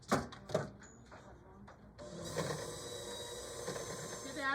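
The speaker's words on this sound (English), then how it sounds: "We're going to use the mixer and just mix that cream cheese to where it's nice and soft" An electric mixer beating cream cheese in a bowl starts up after a few clinks and a short bit of speech, then whirs steadily and fairly quietly to the end.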